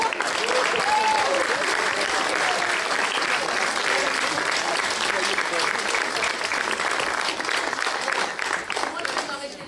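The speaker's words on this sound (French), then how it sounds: "j'ai déjà eu pas mal d'applaudissements" Sustained, loud audience applause at a musical theatre show, dense clapping filling the hall steadily for about ten seconds with a few faint voices and cheers mixed in.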